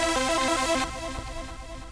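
An FL Studio synth lead preset, Lead Double HP, plays a short bright melody of quick stepped notes for a bit under a second, then a softer sustained tone trails off.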